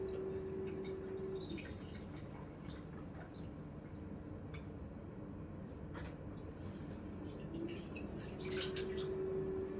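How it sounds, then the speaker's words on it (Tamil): Tap water runs steadily in a home kitchen, a continuous broadband hiss and patter with faint drips and clinks on top, moderately close and without talk. "டேப்பில் வந்து நல்ல தண்ணி தான் வரும்."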